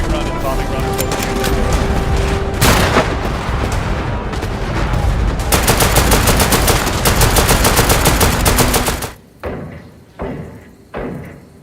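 Heavy sustained gunfire and machine-gun bursts with booming bomb impacts fill a multiplayer war game battle, loud and dense throughout before cutting to a few isolated thuds near the end.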